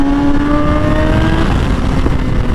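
A 1000cc motorcycle engine held in first gear and straining to cut out, a loud, steady close-up drone with a buzzing tone that shifts slightly partway through, with no voices.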